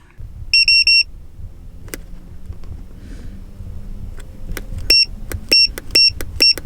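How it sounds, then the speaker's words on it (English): A car tire pressure warning alarm beeps in bursts: a short series of high tones, then a rapid run of repeated beeps over a low engine hum. "that's the awful sound that it makes when the alarms are too high"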